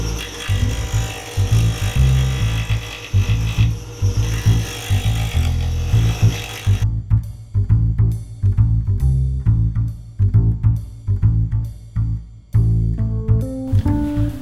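A maple ring blank spins on a wood lathe at 3000 rpm while a square rougher cuts it, a loud, close whir with rhythmic scraping bursts that gives way to sharper, intermittent cutting taps.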